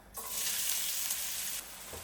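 Chopped onion hits hot fat in a frying pan, setting off a sudden loud hiss that holds steady and then eases to a softer sizzle, close up with no speech.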